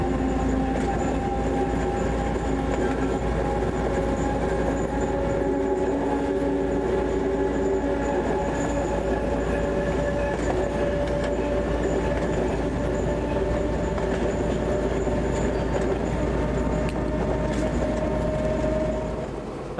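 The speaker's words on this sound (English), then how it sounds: "The train is seen here in open countryside." A train rumbles along continuously, wheels clattering on the rails with a steady engine drone and faint metallic squeals, heard nearby for a long stretch.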